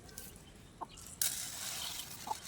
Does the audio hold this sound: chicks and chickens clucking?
yes